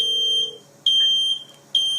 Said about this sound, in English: So you can hear the fire alarm sounds ringing in your home on your phone.